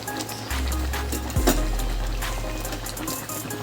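Drumstick curry bubbling in a pan over a medium gas flame, a steady low simmering hiss with soft pops and a brief clink partway through.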